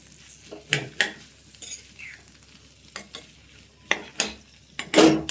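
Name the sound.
ginger garlic frying and being stirred in pan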